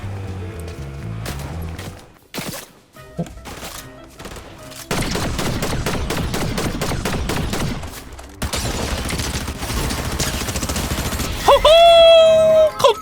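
Bursts of video game gunfire crackle in rapid volleys, loud and close, with brief pauses between heavy stretches of shooting and some in-game sound effects at the end.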